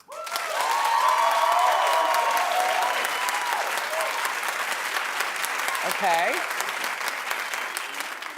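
Studio audience at a daytime talk show claps loudly and steadily for Sam, a dense sustained ovation with scattered cheers throughout; a brief spoken word occurs near the start.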